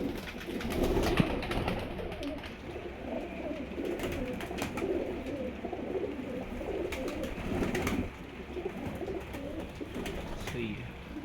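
Teddy pigeons coo in low, rolling, overlapping calls, close and continuous over a busy background of scattered rustles and knocks.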